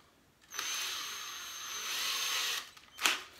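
A power drill boring a 13/64-inch hole about 1/4 inch deep into wood or drywall while a towel bar is mounted, one steady high whine for about two seconds, close up, followed by a brief clatter.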